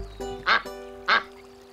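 Ducklings in the animated children's show Bananas in Pyjamas give two loud, nasal quacks about half a second apart, heard clearly over a steady tonal background.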